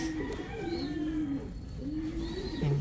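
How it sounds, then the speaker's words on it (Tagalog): A crested racing pigeon coos in a soft, repeated low murmur, a few rolling calls close by with faint chirps in the background. "Racing pigeon na crested."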